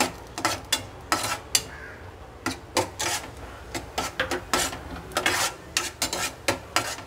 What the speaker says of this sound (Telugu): జీడిపప్పు ఎరుపు రంగు వచ్చే వరకు వేయించుకోవాలి